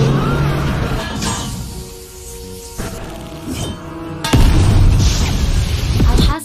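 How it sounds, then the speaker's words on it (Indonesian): A leaking oxygen gas tank bursts in a film scene, with heavy booming blasts and crashing debris, including a loud hit midway and a sustained rumbling roar toward the end. "Alhasil terjadilah ledakan yang membuat Toro tertimpa reruntuhan"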